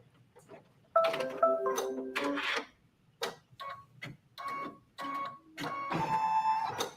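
An embroidery machine sews an outline placement stitch, giving fast mechanical rattling bursts with short pauses between them, heard close up.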